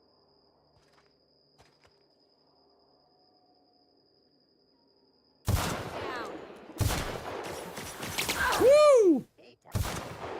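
Hunting rifle fire in the video game The Outer Worlds: after a quiet stretch, loud bursts of gunfire and explosive blasts arrive close together, with a rising whistling tone and a player's excited whoop over the din.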